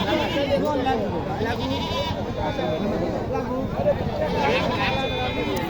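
Many goats bleat together continuously at a goat market, a dense chorus of wavering cries with people chatting amid the herd.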